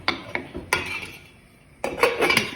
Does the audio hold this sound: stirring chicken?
yes